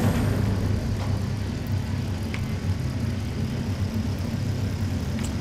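Tesla Cybertruck in Fortnite accelerating: a steady low electric-motor drone with road rumble, constant and fairly loud throughout, no voices.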